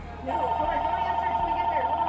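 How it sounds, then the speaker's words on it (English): A telephone rings with a steady electronic tone in an antique store during a ghost hunt, one continuous ring lasting about two seconds, close and clear, with no talking over it. "It's ringing again."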